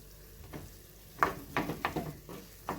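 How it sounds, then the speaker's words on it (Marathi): Grated potato sautéed in a little ghee and stirred in a pan: soft, quiet sizzling under a series of short scraping strokes, six or so, close by. "आता हा बटाट्याचा जो खीस आहे किंवा लगदा आहे तर तो आपण छान परतून घेऊया"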